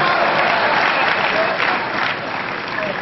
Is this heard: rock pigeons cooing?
no